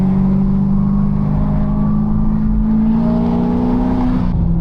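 A Corvette ZR1 engine heard from inside the cabin while cruising in fifth gear on the freeway, a loud, steady rising drone that climbs gradually in pitch and then eases off near the end.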